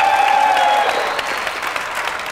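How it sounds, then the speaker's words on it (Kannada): A studio audience applauds loudly for cricketer Sreesanth on a TV game show, a dense, sustained burst of clapping that eases slightly after the first second, with a brief tonal sting at the start. "ಇನ್ನೊಂದ್ಸಲಿ ಜೋರಾಗಿ ಚಪ್ಪಾಳೆ ಶ್ರೀಶಾಂತ್ ಅವರು."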